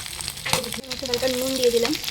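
Dried fish (shutki) frying in oil in a pan, a steady close sizzle with stirring scrapes, while someone speaks briefly over it.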